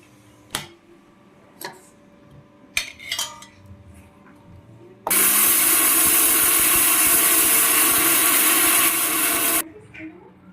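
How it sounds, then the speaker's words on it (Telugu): An electric mixer grinder jar powders roasted fenugreek and mustard seeds in one loud, harsh whirring burst of about four seconds, preceded by scattered clinks and handling knocks and followed by quiet. "ఇప్పుడు వాటిని అయితే చక్కగా పొడి చేసుకుందాం మిక్సీ జార్లో వేసుకొని"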